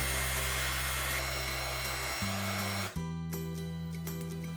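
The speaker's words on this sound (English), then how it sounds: "Then use my heat gun, I'm going to blow the white around." A heat gun blasts a steady, loud rush of hot air over white resin for seafoam on a custom Frozen 2 Nokk water horse figure, its hum shifting pitch as the airflow changes partway through.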